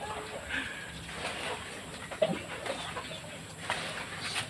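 Chickens cluck softly at feeding time on a small farm; the calls are faint and scattered over low background noise, with one slightly sharper note midway.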